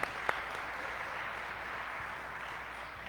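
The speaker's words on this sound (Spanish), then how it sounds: "demos un fuerte aplauso de bienvenida a nuestro Padre Samuel" A church congregation in Salinas breaks into steady applause at Mass to welcome Father Samuel Santiago de Jesús, a dense, even wash of clapping throughout with a couple of sharper claps near the start.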